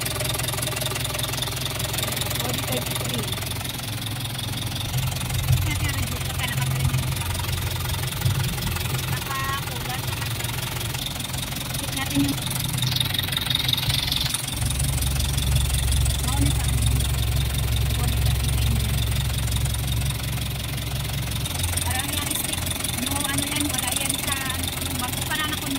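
The 4D33 diesel engine of a Japanese surplus mini dump truck idles steadily with a low knocking rumble throughout, and a person talks over it.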